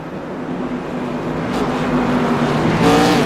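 ARCA race cars circle the Iowa oval under caution behind the pace car, their engines droning steadily at close range and rising in pitch toward the end, with no voices.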